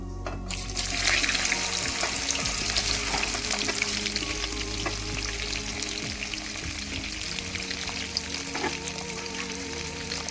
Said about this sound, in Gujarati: હવે એમાં આપણે એડ કરીશું ભીંડા.